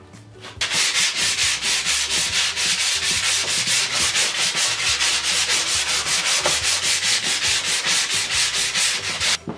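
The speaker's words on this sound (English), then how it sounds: "grab your 220 grit sandpaper and start sanding all the edges until they're nice and smooth" Steady back-and-forth strokes of 220 grit sandpaper rubbing on wooden skateboard edges, loud and close, repeating in a quick even rhythm for several seconds.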